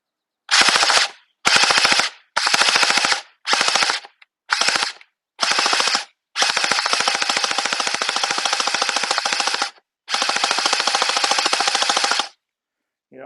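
An ACR-J10 gel ball blaster fires loudly and close during a velocity test, first in several short rapid bursts, then in two long sustained strings of full-auto shots.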